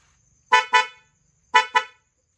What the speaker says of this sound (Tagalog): Ito naman yung loud horn.